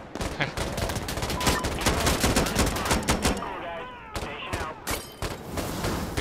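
Dense automatic gunfire fills a firefight in the video game Insurgency: Sandstorm, with rapid overlapping bursts and single loud shots, some near and some further off, and a brief voice mixed in.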